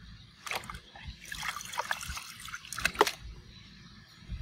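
Water trickles and splashes in a Finding Dory Whirlin' Waves water table toy, with soft irregular dribbles and a few brighter splashes close by, and faint background activity throughout.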